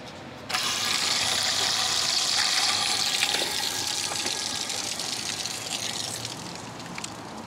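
Water gushes steadily from a roadside spring tap on a frosty day, starting abruptly and then pouring in a loud, continuous splashing stream close by.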